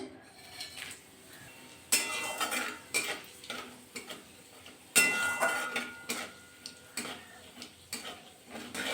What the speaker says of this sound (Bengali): নাড়াচাড়া করে কিন্তু ভাজা করে নিয়েছি